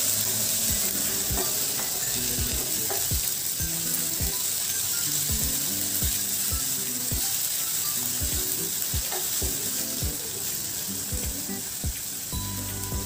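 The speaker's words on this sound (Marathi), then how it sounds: "1 मोठा टोमॅटो बारीक चिरून घेतलेला आहे, तो टाकते. तो देखील आपण छान परतून घेणार आहोत." Finely chopped tomato sautéing in a hot pan gives a steady, close sizzle throughout, broken by repeated soft scrapes and taps of stirring, with no voices.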